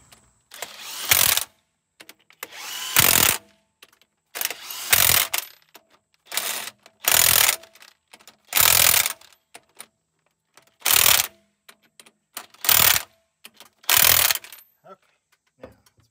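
Repeated wrenching on a loose flywheel of a Detroit Diesel 671 engine in a GM 4104 bus: about nine bursts of metallic ratcheting and clanking, each roughly half a second long, separated by short quiet gaps, close and fairly loud.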